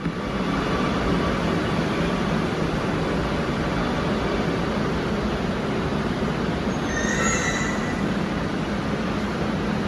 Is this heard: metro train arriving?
yes